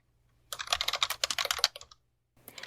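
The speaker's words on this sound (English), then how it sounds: "If I type the command javac textfilereader.java" A fast burst of clattering keystrokes on a computer keyboard as a command is typed, close and crisp, ending in a pause and then a few more key taps.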